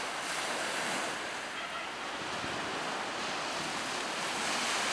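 Waves wash onto the Tyrrhenian Sea shore at Campora San Giovanni in a steady, broad roar, with wind noise blowing across the microphone and no voices.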